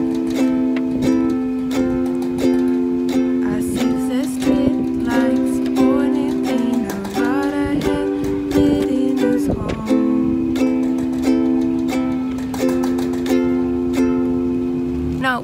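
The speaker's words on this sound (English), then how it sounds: "we're gonna do four single down strums in every chord" Ukulele strummed with single down strums through a song's chord progression, steady ringing chords with regular strokes, played alone without talk.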